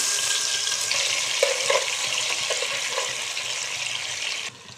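Garlic frying in hot oil in a pan after fried onions, a steady bright sizzle with a few soft stirring clicks, which cuts off abruptly near the end.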